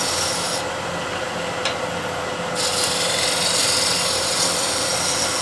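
A negative rake scraper is drawn flat across its stone with a few short strokes to raise a burr, giving a close, gritty rasping rub.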